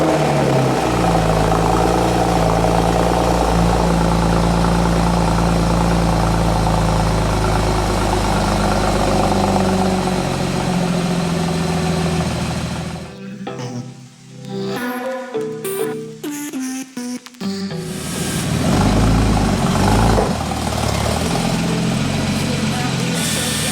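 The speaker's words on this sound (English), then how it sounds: "let's do a cold start real quick" Porsche 981 S with an Agency Power catback exhaust on a cold start: a loud, steady high idle drone for about thirteen seconds, then a stuttering drop and broken bursts before the engine note settles back into a strong idle.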